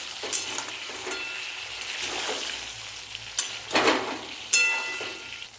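Raw tomato, green papaya and unripe banana sizzle in hot oil in a pan, a steady crackling fry broken by a few louder bursts as the pieces are stirred and turned.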